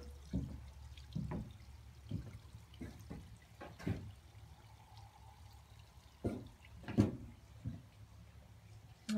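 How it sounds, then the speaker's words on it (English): A garden water feature outside a house trickles and splashes in scattered soft bursts, faint and irregular, with quiet stretches between the drips and pours. "Got a water feature."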